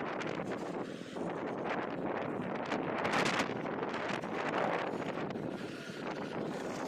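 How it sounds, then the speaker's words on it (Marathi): Strong wind sweeps across the Pamban bridge at Rameswaram, a continuous, fairly quiet broadband rush with gusty buffeting on the microphone throughout, and no voices. "इथे वारा एवढा सुटला होता"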